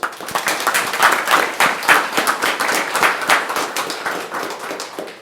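A room full of people at a county board meeting bursts into sustained applause, dense overlapping hand claps rising and falling steadily for several seconds, loud and close with no talking over it.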